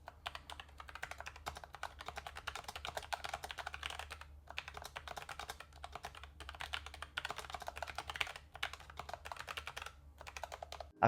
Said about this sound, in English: I also upgraded my wife's keyboard to the MX mechanical keys. I got the one with the brown switches